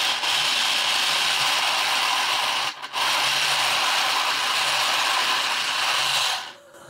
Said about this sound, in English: So for every 36 times that my motor spins, the output only spins one time, which increases the torque by a lot.